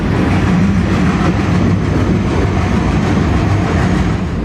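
Loud, steady roar of a train running into its last tunnel on the line toward Tamil Nadu, with dense, continuous rumble and rail noise and no pauses.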